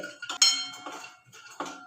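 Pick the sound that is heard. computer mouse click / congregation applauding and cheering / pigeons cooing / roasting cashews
roasting cashews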